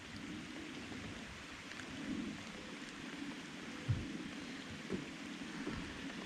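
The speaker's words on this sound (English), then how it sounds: "I would call it a light, steady rain." Light, steady rain falling outdoors at a West Virginia pond, a soft continuous hiss and patter with a low rumble underneath and a couple of faint thumps, no talking.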